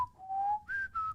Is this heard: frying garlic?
no